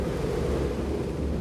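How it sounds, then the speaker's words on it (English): Wind blows steadily on a very windy day, a dense continuous rushing roar buffeting the microphone, loud and without talk. "Today seems to be a very windy day."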